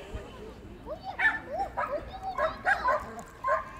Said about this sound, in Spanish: Lo primero que hacemos es enseñarles a ladrar.